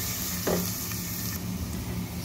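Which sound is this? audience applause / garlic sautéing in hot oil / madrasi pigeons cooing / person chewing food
garlic sautéing in hot oil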